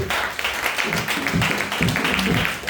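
A church congregation claps together during a worship service, a dense wash of applause with shouts and voices mixed in, loud and continuous for under three seconds.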